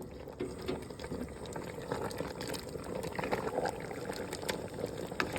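Kare kare oxtail stew bubbling and simmering in a pot, a continuous close burble of liquid with irregular pops and splashes.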